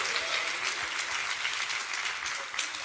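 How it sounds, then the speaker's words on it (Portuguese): A church congregation breaks into sustained applause after a call to praise God during a Portuguese-language sermon, a dense, even wash of many hands clapping that carries on loudly throughout. "Dá uma salva de palmas ao Senhor."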